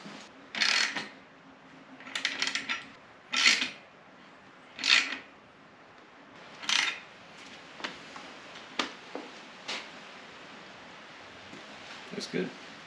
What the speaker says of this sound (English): We're going to tighten the front wheel down.